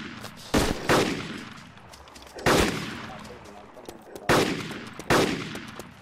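M240 machine gun fire in the video game DayZ, several sharp loud bursts spaced a second or two apart, each decaying with a short echo over a quiet background.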